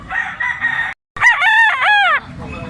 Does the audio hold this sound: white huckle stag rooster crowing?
yes